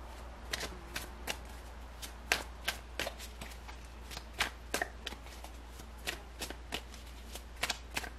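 Tarot cards being shuffled by hand close up: a steady series of crisp riffling snaps and slaps at an irregular but quick rhythm, over a low constant hum.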